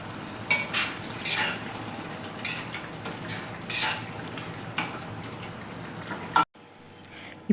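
A spoon clinks and scrapes against a pan while prawn curry with coriander is stirred, making repeated metallic knocks in a loose rhythm, close and fairly clear, before cutting off abruptly near the end.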